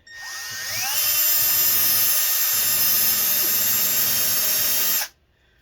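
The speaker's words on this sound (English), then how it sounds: "let's see if using a Dremel bit in a drill works" A cordless drill fitted with a Dremel bit spins up from a rising whine to a steady high-pitched screech, running alone for about four seconds before cutting off abruptly.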